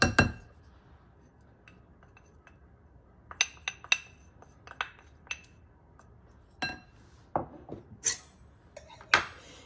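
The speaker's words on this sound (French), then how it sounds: "Le zeste, je le mélange. Je vais rajouter le beurre pommade." Lime zest and softened butter are worked together in a bowl, giving scattered light clinks and taps of a utensil against the bowl, irregular and close, with one louder knock at the start.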